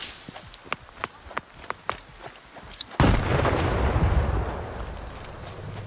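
Gunfire in the video game S.T.A.L.K.E.R. 2: a string of about eight sharp pistol shots at an uneven pace, then a heavy booming blast that rumbles and slowly fades.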